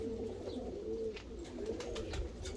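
Hungarian fancy pigeons, patterned show birds, coo in soft repeated rolling phrases at close range, with faint rustling and clicks around them and no talking.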